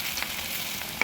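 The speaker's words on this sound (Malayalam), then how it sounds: "ചൂടായ എണ്ണയിലേക്ക് സ്പൂൺ വെച്ച് കോരി വെച്ചു." Pakoda batter sizzles and bubbles in hot oil after being spooned in, a steady bright crackle with a few sharper pops, close by and with no talking.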